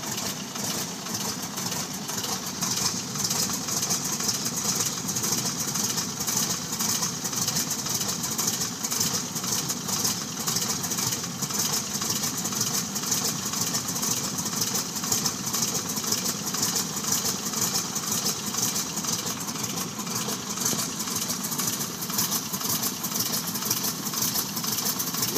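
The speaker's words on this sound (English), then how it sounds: "It's real dangerous in cold weather to start an engine like that." An airplane engine idles after a cold-weather start, a steady, loud mechanical drone with a fast rhythmic chatter that runs unbroken for about twenty-five seconds with no talking.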